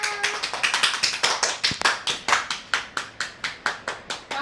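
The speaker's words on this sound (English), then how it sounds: "Everybody clap for Miduna." Hand clapping for a child at home: a small group claps in a fast, fairly regular rhythm, each clap crisp and close, about four per second.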